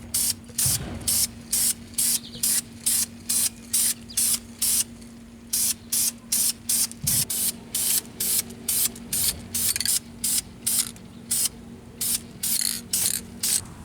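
Spray paint is applied to car brake calipers in a long series of short, evenly spaced aerosol bursts. Each is a sharp, close hiss with brief gaps between, keeping a steady rhythm throughout.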